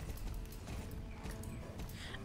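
Horse hooves clip-clopping while riding in the video game Star Stable, a steady rhythmic trot that is faint and close, with no voices over it.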